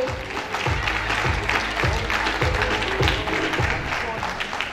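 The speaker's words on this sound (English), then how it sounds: "Clap, I'm not hearing you people." Applause from a seminar audience at a network marketing training summit, dense broadband clapping with a steady low rhythmic thump underneath, as if music or coordinated beats play along, continuous and fairly loud throughout.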